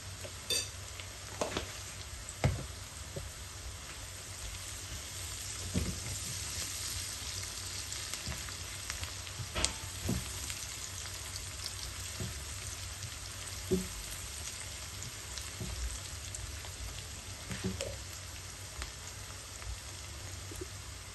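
Sliced onions fry with turmeric for bitter gourd baji, a soft, continuous sizzle with scattered pops and occasional stirring taps, fairly quiet and close, with no talking.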